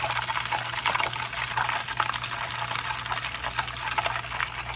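Butter browning in a pan for financiers, its milk solids toasting on the bottom, gives a steady, close, even sizzle and crackle that holds without a break.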